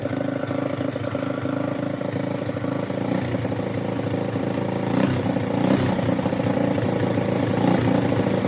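An old truck engine idles steadily with a rough, even low rumble that grows a little louder and busier partway through, close by with no talk.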